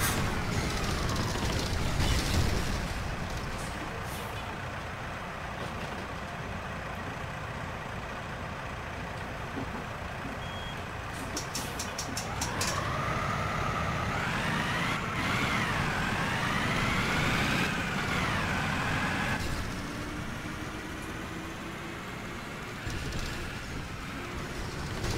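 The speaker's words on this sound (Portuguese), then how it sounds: "Esses ônibus aqui, como sempre, né, galera? Eles é um pouquinho meio que barulhento mesmo." Simulated VW 9-160 OD Euro V bus on an AMD Alamo body in OMSI 2, its engine droning steadily near and loud, with rising and falling revs in the middle and short hissing bursts like air brakes, no talk over it.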